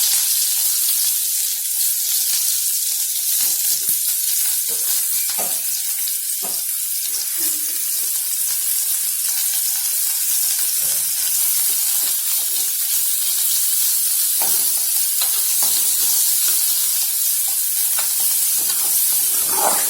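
Steady, loud sizzling of onions frying in hot ghee, with occasional stirring scrapes and crackles throughout, no voices.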